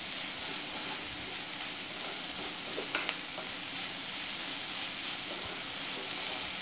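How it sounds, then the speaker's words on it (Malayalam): Chicken sautéing in a pan without salt until crispy, a continuous close sizzle and crackle of frying with a few brief stirring clinks, no talking. "നമ്മളത് ഉപ്പിടാണ്ടാണ് ഇങ്ങനെ വഴറ്റിയെടുക്കുന്നത്"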